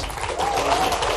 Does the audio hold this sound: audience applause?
yes